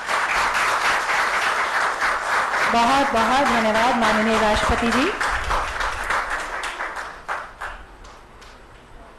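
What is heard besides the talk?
loud applause from audience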